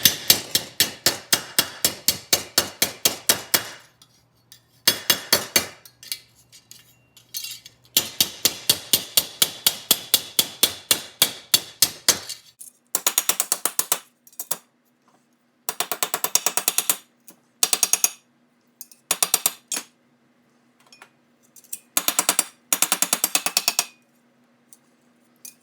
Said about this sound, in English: I need to hammer this flat first.